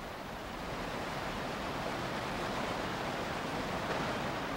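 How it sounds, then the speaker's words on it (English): Water rushing through a break in a beaver dam in the Grand Teton wilderness, a steady broadband roar that holds constant and close throughout, with no voices. "the sound of rushing water"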